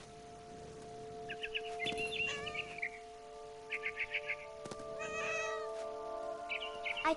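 Cat meowing in the video game What Remains of Edith Finch, several short rhythmic bursts of small mews and chirping cries over steady tonal game ambience, fairly close and moderately loud.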